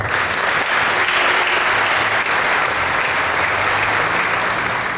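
An audience at a church Bible dedication event in Abobo applauds a pastor, a dense, loud and even wash of clapping from many hands that holds steady for the whole stretch without cheers or speech.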